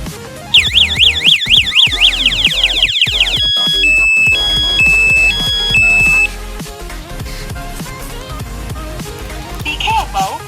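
Bike anti-theft alarm sounding loudly: a rapid warbling siren, then a slower run of alternating electronic beeps, close and piercing, before it stops and a faint tone lingers.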